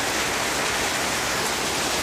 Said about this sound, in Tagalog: Tingnan nyo, lakas ng patak ng ulan.